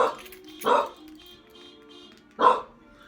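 A pet dog barks twice, near and moderately loud, in a quiet hotel room after a lawn chair is bumped.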